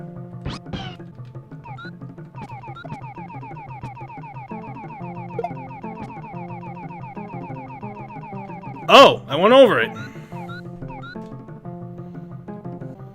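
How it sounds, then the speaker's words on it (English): A pet cat lets out a loud, sharp pair of yowling meows near the middle, rising clearly above continuous chiptune video game music from Super Mario World, with someone briefly speaking beforehand. "If you hear any screams, that's just my cat."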